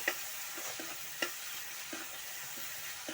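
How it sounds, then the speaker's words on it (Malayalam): Tomato sautéed with onions in a pan for an egg curry: a quiet, steady sizzle with occasional light spatula taps and scrapes against the pan, heard up close without voices. "ഒരു തക്കാളി ഞാൻ എടുത്തിട്ടുള്ളത് ചേർത്ത് ശരിക്കൊന്ന് വയറ്റിയെടുക്കാം"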